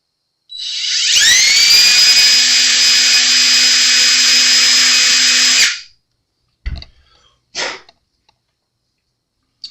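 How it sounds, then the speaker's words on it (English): A power drill with a small bit whirs loudly and steadily for about five seconds drilling screw holes for a guitar neck, then winds down, followed by a few brief clicks and short bursts. "I'm using the smaller drill bit first"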